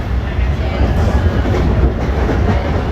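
GO commuter train riding on rails, a steady loud rumble of wheels and carriage with faint clatter throughout, no voices.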